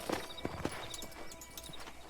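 Horse hooves clip-clop steadily in Red Dead Redemption, a quiet, even walking rhythm of soft hoof falls with no talk over them.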